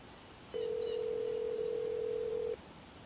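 A steady single-pitch telephone tone sounding for about two seconds as a call is placed, clear and fairly loud over faint background hiss, with no voices.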